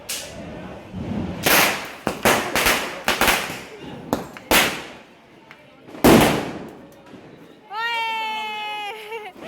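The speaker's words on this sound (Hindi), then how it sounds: "और बहुत ज़्यादा आतिशबाजी हो रही है" Sharp Diwali firecracker bangs crack in an irregular volley, some close and loud, followed by a whistling, warbling firework rising at the end.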